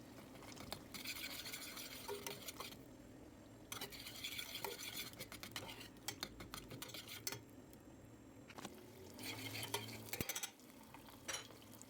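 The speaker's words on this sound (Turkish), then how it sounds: "Bir yemek kaşığı tereyağı ve üstüne bir miktar göz kararı ayçiçek yağı ilavesi yaptım." Butter and sunflower oil melt in a pan for a sauce, with a gentle sizzle beneath close scraping and stirring, intermittent clinks of a utensil against the pan, and quiet stretches between bursts.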